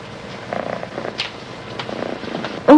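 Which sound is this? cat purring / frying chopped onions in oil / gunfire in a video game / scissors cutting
cat purring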